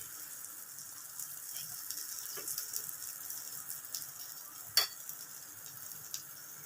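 Paratha stuffed with paneer, spinach or fenugreek and potato sizzles quietly on a hot pan, a soft steady crackle with a few sharp ticks and one brief louder pop, no talking.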